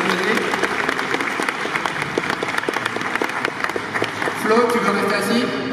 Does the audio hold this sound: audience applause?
yes